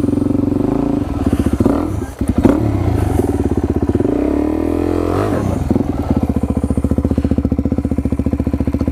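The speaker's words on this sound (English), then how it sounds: "I think that was my tire that has spun" A motorcycle on a dirt trail, its engine loud and close, chugging steadily with a surge of revving and some clattering as the tire spins.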